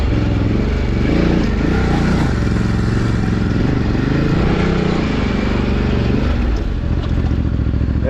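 A Ducati Desert-X motorcycle rides a rough trail near Urubici, Santa Catarina, its close, continuous engine drone rising and falling with throttle changes, with clattering and scraping from the rough ground throughout.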